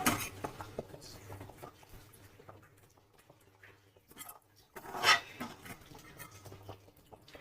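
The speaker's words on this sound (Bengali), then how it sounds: "তো বাকি সবজিগুলো চলো ঢেলে নিই।" Vegetables such as green beans and carrots tumble into a frying pan for khichuri with scattered clinks and clatter of utensils, then a louder burst of rattling and sizzle, fairly faint and close.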